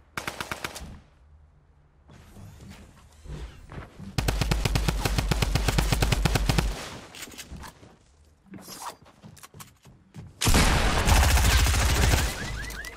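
Rapid automatic gunfire in the battle royale game Fortnite comes in several loud, dense bursts separated by short pauses, with quieter shuffling and game sounds between volleys.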